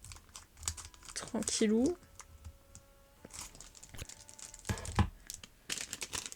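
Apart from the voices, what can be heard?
cutting open an Amiibo Animal Crossing booster pack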